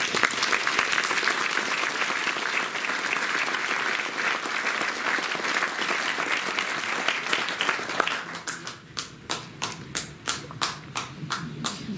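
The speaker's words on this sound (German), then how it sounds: "Peggy Panas klatscht ganz lange." An audience applauds at a German event against hate, dense sustained clapping from a crowd that thins after about eight seconds into a few distinct, spaced claps.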